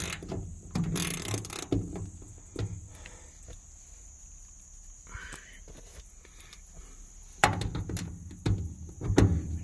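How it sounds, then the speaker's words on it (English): Intermittent ratchet clicks and clatter come from loosening the rear window bolts on a 1996 Ford Ranger, with a few louder handling bumps and quieter stretches between the bursts. "Just go around loosening"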